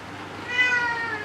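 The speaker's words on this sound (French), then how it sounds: "Un chat." A cat gives a single drawn-out meow, clear and fairly close, rising and then trailing off over a quiet background.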